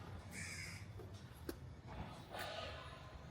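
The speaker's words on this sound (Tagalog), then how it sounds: "Yung mga uwak mo." Crows near a budget hotel in Singapore's Geylang area, giving a few harsh caws close by, set against a low background hum with faint murmured talk.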